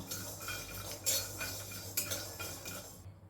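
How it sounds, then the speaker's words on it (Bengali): Raw peanuts and sesame seeds stirred in a pan with a metal spoon, repeated scraping and rattling clinks at close range, a few sharper strikes standing out, fairly quiet and without any speech. "বেশ কয়েক সেকেন্ড বাদাম ও তিলটাকে আমি নাড়াচাড়া করে নিয়েছি"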